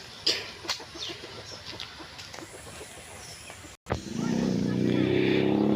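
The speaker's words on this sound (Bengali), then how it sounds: "দেশি জাতের মুরগি" A native-breed chicken clucks a few times outdoors in a village, fairly faint against background noise, before a louder rumbling wash of sound takes over.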